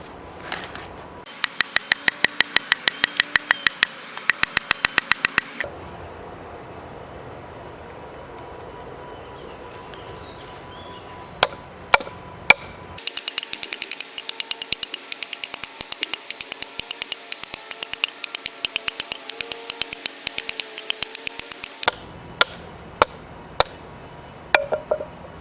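A CRKT Seismic folding knife hacks into a hardwood tree in rapid bursts of sharp, repeated chopping strikes, separated by quieter pauses and a few isolated heavier blows, close and fairly crisp.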